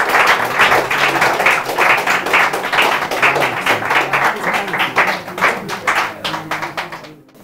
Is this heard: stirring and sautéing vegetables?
no